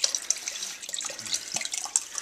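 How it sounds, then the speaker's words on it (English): Water running from a kitchen sink faucet with a telescoping handle, a steady close splashing stream with small drips and gurgles, no talking. "you can take this little telescoping handle here on the faucet and just turn on the water"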